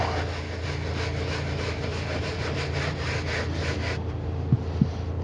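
Leather and carpet are rubbed gently with a cleaner, giving a soft, steady, rhythmic scrubbing with brief strokes throughout, faint and close, ending in a couple of small taps.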